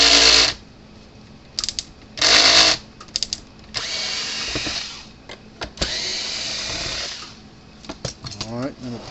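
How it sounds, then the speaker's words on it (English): A power screwdriver fitted with a Phillips bit backs screws out of the casing of a Stafix X6 fence energizer, giving several short whirring bursts of different lengths with pauses and handling noise between them and talk at times. "And you need a Phillips bit. Pull the screws out."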